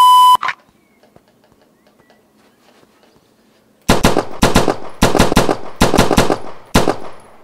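Simulated gunshots from the Practisim VR competition shooting game crack out in fast, loud bursts of about a dozen shots after a short electronic start tone and near silence.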